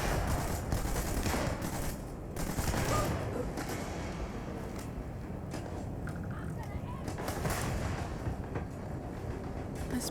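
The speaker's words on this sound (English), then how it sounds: "Quit throwing your grenades so close to us, Sammy." Rapid bursts of gunfire and grenade blasts in the Starfield video game, a dense, loud barrage of shots rolling on for the whole stretch with a voice talking over it.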